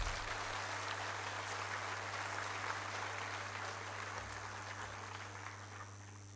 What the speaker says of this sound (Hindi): कि जोरदार तालियों से इनका स्वागत किया जाए।